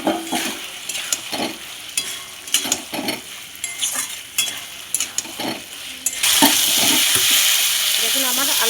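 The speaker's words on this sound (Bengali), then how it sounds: "এইবার ভেজে রাখা পটলটা আমি দিয়ে দেবো উপর থেকে।" Fried pointed gourd is stirred into a sizzling spice mix in a pan, with repeated scraping strokes over a steady fry, and the sizzle swells louder and denser toward the end.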